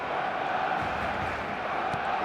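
A large stadium crowd in the eFootball video game roars steadily on match day, a continuous dense wash of massed voices with no break or distinct peaks.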